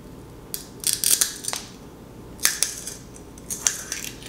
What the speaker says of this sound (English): The glass is broken.